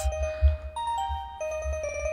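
Sampled bell tones in the Incredibox Soulgem music game, a clear ringing melody of sustained chime notes over a low rhythmic beat, several struck notes in sequence, fairly loud and with no talk.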